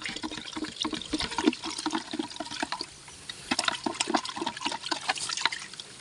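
Water is poured for goats to drink outdoors, a continuous splashing and trickling that runs for several seconds with a short lull midway, close and fairly steady.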